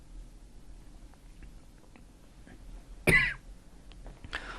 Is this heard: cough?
yes